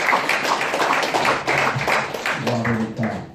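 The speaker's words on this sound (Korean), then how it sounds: "박수 한번 해주시죠." Audience applause at a year-end gathering of officers of a Korean unification leaders' federation: a dense, steady patter of many hands clapping for about three seconds, with some murmured voices underneath toward the end.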